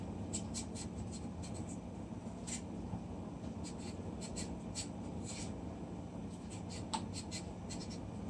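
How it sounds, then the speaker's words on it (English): A knife slices through potato or yam for a Jamaican chicken pumpkin soup, making quick, faint scraping cuts in short irregular bursts, close by and soft over a steady low background hum. "So you cut it like this."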